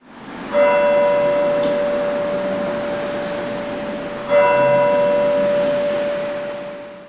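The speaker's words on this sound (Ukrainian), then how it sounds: "Тепер щогодини у місті чути бій курантів." The town hall tower clock bell in Terebovlia, Ukraine, strikes twice, each deep ringing stroke slowly fading before the next, heard over a faint outdoor background.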